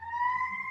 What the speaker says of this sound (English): sorry, siren